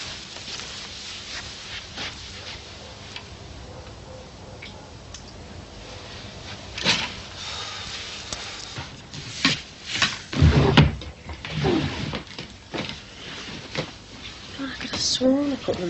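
Drawers in a home being pulled open and pushed shut during a search, with wooden knocks and sliding thumps, some sharp and close, scattered between quieter rustling, while people talk at times.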